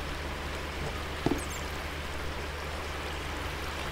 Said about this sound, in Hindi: ये पानी डिस्टर्ब कर रहा है मुझे।